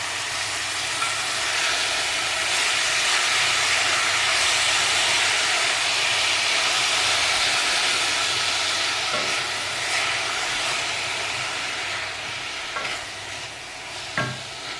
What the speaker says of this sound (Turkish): Kerevizlerimin de diriliği gidene kadar kavuracağım.